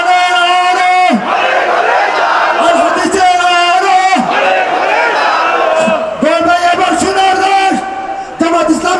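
A large crowd at an outdoor Bangladeshi religious gathering roars a takbir in loud, rhythmic unison, several swelling shouted chants repeating back to back over about nine seconds.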